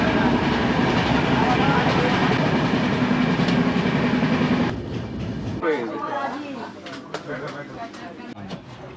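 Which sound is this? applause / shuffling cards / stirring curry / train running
train running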